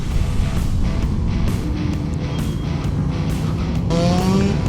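A large pack of motorcycles on a group ride, including a Yamaha XJ 600, rolls past in a steady, dense engine roar with rising and falling tones as bikes go by.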